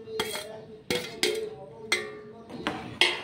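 A spoon strikes and scrapes a metal cooking pot of dal and fried vegetables. About six sharp, irregular clinks ring out close by, alone and unaccompanied by talk.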